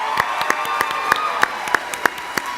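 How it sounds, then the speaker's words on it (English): Applause for the winners at the Carroll Biz Challenge 2018 business competition, heard mostly as sharp, evenly spaced individual claps over a soft crowd murmur, about eight distinct smacks in steady rhythm. "Give them another round of applause."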